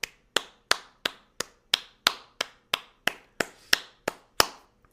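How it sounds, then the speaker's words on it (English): Self-applause during a car sales training session: about a dozen sharp, evenly spaced claps, close and crisp, with no voices under them. "let's take a moment and applaud yourself"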